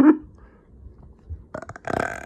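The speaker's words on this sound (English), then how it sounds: "Stop burping." A short low croak opens, followed after a pause by a series of rough, gurgling bursts rising in loudness, close and unaccompanied by talk.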